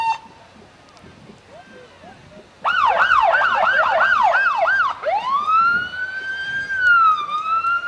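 A Marysville police car and a St. Clair County Sheriff's car in a festival parade sound their sirens: a rapid wailing yelp, then a long rising and slowly falling wail, loud and close over outdoor crowd noise.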